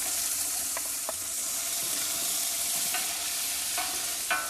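Sliced red onion fries with spices in a frying pan, giving a steady, even sizzle throughout with a few faint clinks from a stirring utensil.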